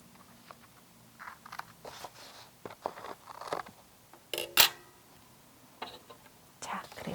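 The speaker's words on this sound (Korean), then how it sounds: "가위로 살짝 잘라줍니다." Scissors give a quick, crisp snip or two as they trim the end of a handmade paper calligraphy card, set against quiet rustling and soft handling noises during a craft class.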